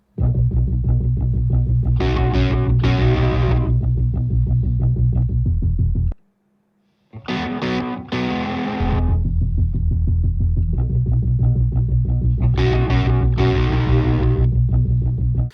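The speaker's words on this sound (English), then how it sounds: "this is the main guitar hook" A heavily distorted electric guitar riff plays loud and steady, cutting out briefly for about a second midway before resuming, with bright bursts recurring in the phrase.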